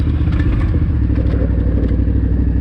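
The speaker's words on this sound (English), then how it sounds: "there's the engine again" An adventure motorcycle's engine drones loudly and steadily while being ridden, a dense low rumble with some clatter and wind, with no talking.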